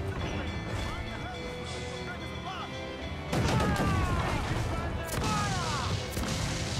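Repeated booming swivel cannon blasts from a ship in Assassin's Creed IV, loud bursts with crashing impacts over busy background music and effects.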